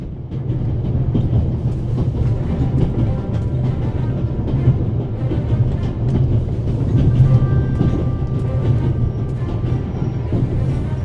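A moving train in The Raven Remastered rumbles steadily with rhythmic clatter and low mechanical drone, loud and continuous for the whole stretch, with no talk.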